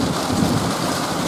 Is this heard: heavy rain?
yes